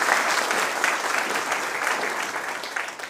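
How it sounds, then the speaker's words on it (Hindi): A room full of people claps loudly and steadily to welcome a guest at a college panel discussion on higher education, the dense applause lasting about three seconds and only easing slightly at the end. "इनका ज़ोरदार तालियों से स्वागत करता"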